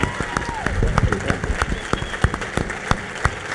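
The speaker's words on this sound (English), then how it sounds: "let's give this superhero a big round of applause" A round of applause from an awards-ceremony audience, dense clapping with a few louder sharp claps standing out, with some voices mixed in throughout.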